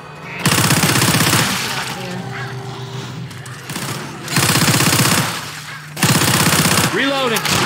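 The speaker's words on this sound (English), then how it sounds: "Machine gun." Machine gun fire in the Left 4 Dead 2 video game, three long loud bursts of rapid shots separated by short quieter gaps, with voices speaking in the lulls.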